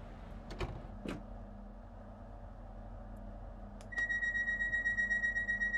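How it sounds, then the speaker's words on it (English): Train door interlock in Train Sim World 3, a steady electronic tone that starts partway through and holds, following a few clicks over a low cab hum. "Door interlock goes, though, when you press the button."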